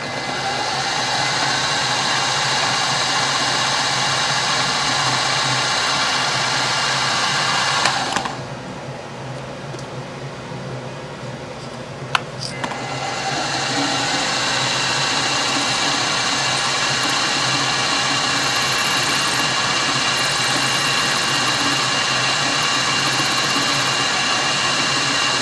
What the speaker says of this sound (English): we'll get a center drill, a number 50 drill bit, and a 256 tap